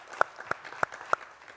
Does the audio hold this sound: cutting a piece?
no